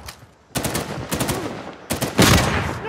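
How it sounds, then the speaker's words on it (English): Gunfire from a sniper rifle in the Uncharted 4 video game, several sharp close shots and bursts after a quiet start, loud and crackling. "Sniper rifle going!"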